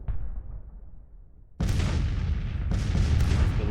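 Civil War cannons of an 1863 battle in the strategy game Grand Tactician boom twice in quick succession, each a loud, broad blast. The first lands after a fading rumble of earlier fire.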